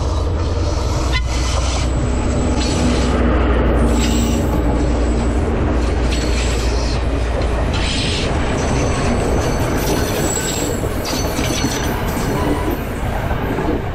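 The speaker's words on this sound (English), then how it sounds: "This is a train, guys." A local train in Sri Lanka rumbles past close by, loud and steady, with clattering wheels on the rails and occasional high metallic squeals.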